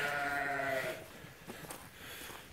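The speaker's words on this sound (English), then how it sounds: "One little last look at the ewes here." Ewes in a lambing barn give one loud, wavering bleat up close, then quieter shuffling barn sounds follow.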